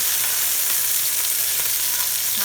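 Chicken shawarma cooked in batches in a pan, a loud, dense, continuous sizzle right up close that holds steady from start to finish, with no voices.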